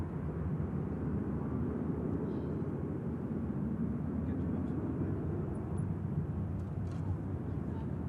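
A jet airliner lining up for takeoff at Manchester Airport, a steady low rumble of engines idling at a distance, continuous and even with no distinct surges.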